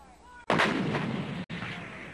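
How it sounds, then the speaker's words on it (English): Field artillery cannons of a Maine battalion firing on a Utah training range: two heavy booming blasts about a second apart, each followed by a long rumbling echo, loud and alone. "the 18 large cannons that the Mainers fire are essential to the Army's battle plans"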